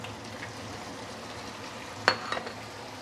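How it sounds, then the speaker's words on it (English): Half-cooked prawns frying in sambal in a home kitchen: a steady low sizzle, a sharp clatter just after the two-second mark, then a few lighter knocks, with no talking. "and then I'm going to put in my half-cooked prawn"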